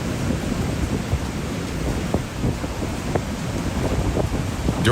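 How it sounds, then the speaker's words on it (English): Powerful storm waves slam into the Nag's Head Pier during Storm Ophelia, a loud roaring wash of surf and wind buffeting the microphone, with repeated heavier thuds of impact rising out of the constant rumble. "Powerful waves repeatedly slam into the Nag's Head Pier"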